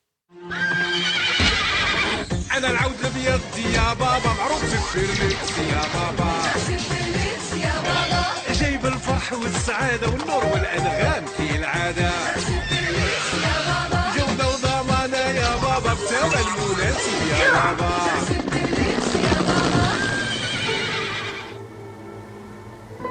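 Horses whinny and neigh repeatedly over a continuous bed of sound, with hoof clip-clop mixed in, loud throughout before fading out near the end, at a Tbourida equestrian event in Morocco.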